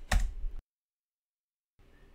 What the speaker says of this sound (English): This time we'll also pass in the config file by typing